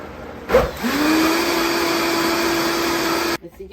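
A blender grinds chile sauce with chicken bouillon, starting with a sharp whir that settles into a steady high-pitched grinding hum for about three seconds before cutting off abruptly.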